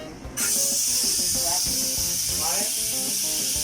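Butter hits a hot pan for a pasta white sauce and bursts into a loud, steady sizzle that holds close and constant, while a voice talks faintly underneath.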